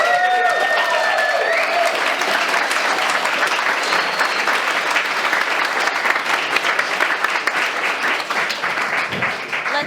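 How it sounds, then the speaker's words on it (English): A large demo-day audience applauds loudly and steadily for the presenting groups, dense sustained clapping filling the whole stretch with a few cheers near the start, tapering slightly at the end. "Let's give a huge round of applause for all of the groups."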